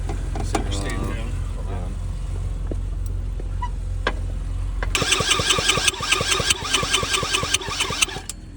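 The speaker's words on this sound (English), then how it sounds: "Kick it over slowly. Like turn the motor over if you can." Scooter two-stroke engine with the intake removed, kicked over by hand on its center stand: after some quiet handling and brief talk, a fast, loud rhythmic chugging of the motor turning over runs for several seconds up close.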